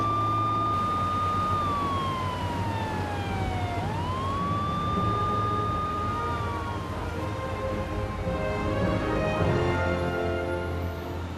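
A siren signaling the start of fishing wails, rising and falling in long sweeps, sounding steadily over a low fishing-boat engine rumble for several seconds.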